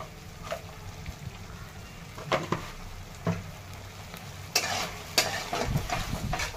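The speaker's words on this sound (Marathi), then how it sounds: "छान मिक्स करून घ्यायचं, शिजून घ्यायचे सॉस ते सगळे छान" Spicy chilli paneer sauce with cornflour and red chutney is stirred in a frying pan. A steady soft sizzle carries close, scraping spoon strokes and knocks throughout, with no voices.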